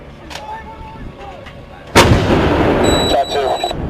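A single loud artillery round fires with a sharp broadband blast, then a long rumbling roar and echo, while faint voices call out before it and high whining tones sound behind.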